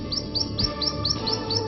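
A Swainson's warbler sings on the Roanoke River floodplain, its quick bright phrases repeating at a steady rhythm over a constant hiss of forest background.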